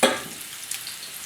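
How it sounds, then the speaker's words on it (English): Cauliflower pieces pan frying in oil, opening with a brief louder burst and then settling into a soft, steady crackle and sizzle with small pops. "Right here, we're just doing some pan frying."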